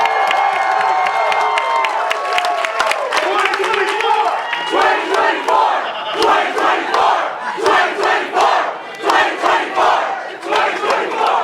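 Crowd cheering at Andrew Yang's Las Vegas town hall, loud whoops and shouting with clapping from a packed audience, swelling in rhythmic chant-like bursts toward the end.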